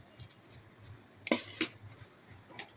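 A spoon scoops parboiled rice onto mutton biryani in a pan, producing a few soft scrapes and metallic clinks close by, with one sharper clatter in the middle and quiet pauses in between.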